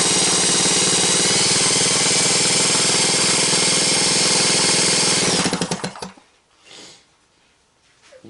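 A cordless drill spins an engine over from a full battery charge, a loud continuous whirring rattle that runs for about five seconds, then winds down and stops, leaving a short faint noise.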